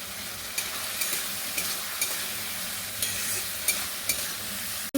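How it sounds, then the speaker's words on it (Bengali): Masala and fried potatoes being stir-fried together in a pan, a steady moderate sizzle carrying regular soft scrapes and taps of the spatula about every half second, close and even, no voices. "আলুটা দিয়ে আমি মশলাটা কষিয়ে নিচ্ছি"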